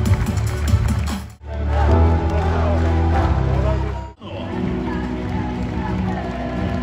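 A crowd fills a hall at a women's volleyball cup final with loud sustained cheering and shouting that swells and cuts out twice, with a voice speaking over the noise.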